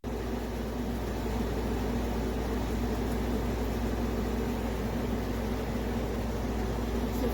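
A hOmeLabs 5000 BTU window air conditioner runs in a large living room, giving a steady, even whoosh of fan noise with a low hum that never changes, close and alone.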